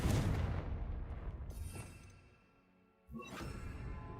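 A Confringo spell blast in Hogwarts Legacy booms with a loud, low rumbling whoosh that fades away, followed by a second burst.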